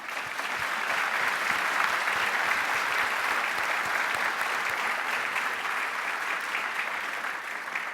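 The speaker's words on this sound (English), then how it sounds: "I'd like to begin by asking for one more round of applause for the Royal High School Wind Ensemble" Sustained audience applause for a high school wind ensemble at a Veterans Day commemoration, a dense, steady wash of many hands clapping that holds at an even level throughout with no talk over it.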